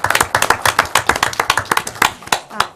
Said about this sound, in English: Let's give her a round of applause, guys.